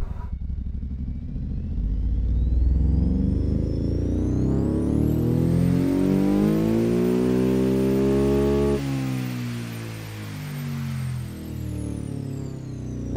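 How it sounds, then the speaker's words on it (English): A simulated boxer race engine in the Automation car-building game revs up smoothly to a high, screaming pitch, holds there, then drops back and settles, loud and close with no talking. "that's a race engine"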